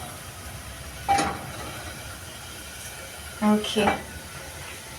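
Liver stew simmers in a pot with a steady, faint hiss, broken by a couple of brief clinks, while a person speaks briefly.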